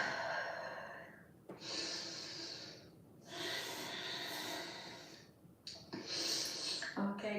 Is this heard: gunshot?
no